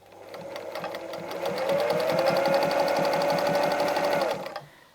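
A sewing machine fitted with a universal needle and standard presser foot stitching a fabric appliqué flower, a loud, close, steady rapid clatter that ramps up, runs evenly for several seconds and then stops.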